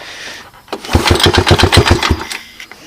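Smoky Honda TRX125 ATV engine given throttle, a brief burst of rapid loud chugging pulses that rises and then fades back down within a couple of seconds, close by.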